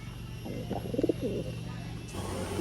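Pigeons of the Benarasi Kalsira breed cooing nearby, a short burst of soft throaty coos over low background hum.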